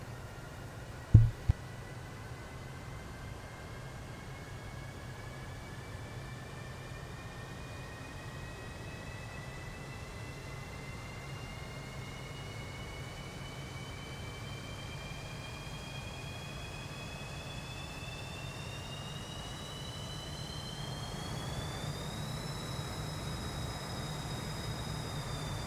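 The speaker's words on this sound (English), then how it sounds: "Can hear those engines starting." Military aircraft engines spool up in a Cold War flight simulation game, a steady whining tone rising slowly in pitch over a broad constant roar, with a brief click near the start.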